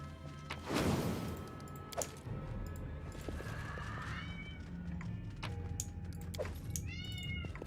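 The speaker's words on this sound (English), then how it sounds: "Oh, cat is so needy." A house cat meows several times near the microphone, its calls repeating at intervals over a steady background hum, with a brief thump early on.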